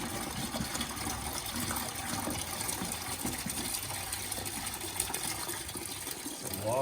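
Water drains steadily from a Toyota RAV4 washer fluid reservoir into a pail, a continuous faint gush with no pauses.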